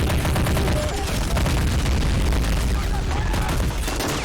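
A steady, loud wall of battle noise fills the toy-soldier war game Army Men of War as plastic armies trade fire across a flower bed, with dense crackling shots and booms and a voice talking faintly underneath.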